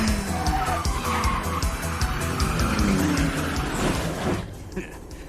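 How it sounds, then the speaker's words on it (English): A car drifts through a corner in the Initial D arcade racing game, its tires skidding in a long continuous screech over loud engine noise before the sound drops away near the end. "You can kick it out and drift right on through this corner."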